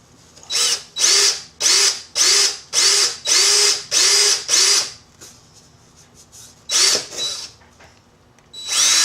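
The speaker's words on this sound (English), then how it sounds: "We're going to take a drill and drill out those 4 holes first." A power drill runs in a rapid series of short, evenly spaced bursts while drilling holes in an Arcade1Up arcade cabinet panel, then pauses and gives one more burst, close and loud.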